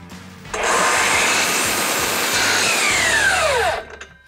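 Power saw slicing a miter cut through cedar trim for a raised garden bed, one loud sustained cut of about three seconds that whines and ends with a falling pitch as the blade spins down.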